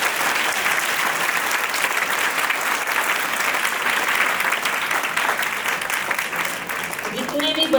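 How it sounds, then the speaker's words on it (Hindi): Sustained, loud applause from the audience at a Vedic speech competition at a gurukul, even and continuous for several seconds with a faint voice near the end. "एक बार आर्य सर के लिए भी तालियाँ।"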